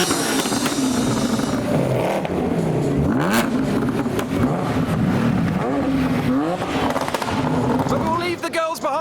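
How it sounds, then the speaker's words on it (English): Car engines rev repeatedly in busy town-centre traffic during a supercar gathering, loud and continuous, with rising and falling engine pitches overlapping throughout. "I can hear some revolutions in the distance as all the traffic is building in the town centre."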